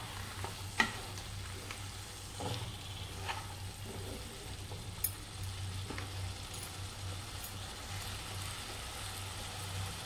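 Boiled chickpeas (chhole) sauté in a pan with a soft, steady sizzle and a few light scrapes and clinks of stirring, close and quiet, with a low hum underneath.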